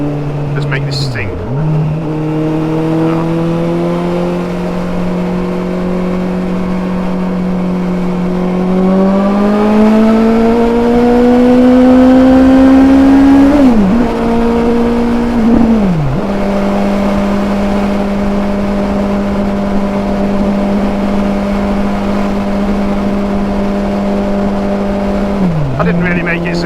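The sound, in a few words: car engine accelerating while driving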